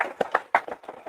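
A handful of close, uneven hand claps ring out in a loose rhythm, likely a small audience clapping after a panel at a crypto conference.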